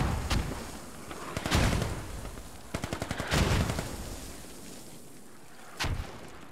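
Mortar rounds slam down in the video game Squad, a series of sharp booming impacts and rattling bursts spread across several seconds, some loud and close, others duller, with no talking.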